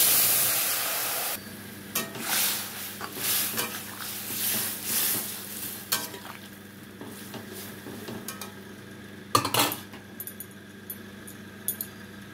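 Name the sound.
spice tempering sizzling in a wok with potatoes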